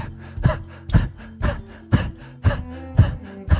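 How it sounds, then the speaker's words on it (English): A person pants rhythmically like a dog with the tongue out during a breathing exercise, about seven sharp, close breaths at an even, quick pace, with no talking. "Stick your tongue out a little and panting like a dog."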